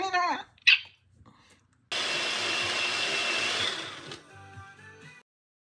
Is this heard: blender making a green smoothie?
yes